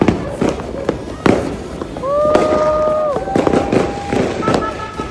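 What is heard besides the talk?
New Year fireworks going off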